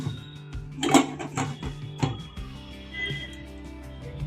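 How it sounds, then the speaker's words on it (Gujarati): A metal lid goes onto a pressure cooker holding potatoes, giving several sharp clanks and clinks close by that settle into a faint hum. "તો આપણે આને ઢાંકણું ઢાંકી દઈએ છીએ કુકરને।"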